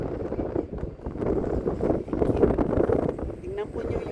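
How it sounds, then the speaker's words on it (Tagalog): Strong gusting wind outdoors near a train line in the San Francisco Bay Area, buffeting the microphone with loud, low rumbling surges that rise and fall, with a voice partly audible beneath. "Tingnan po yung hangin. Ang lakas."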